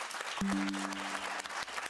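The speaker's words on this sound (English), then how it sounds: "he seems to be winning the applause" Studio audience applauding during a televised UK general election leaders' debate between Sunak and Starmer, a dense steady wash of clapping for about two seconds with a brief sustained tone cutting through early on.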